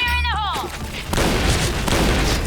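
Explosions in the online shooter Point Blank burst into a loud, rumbling roar with crackling debris that fills the rest of the moment, after a brief exclaiming voice at the start.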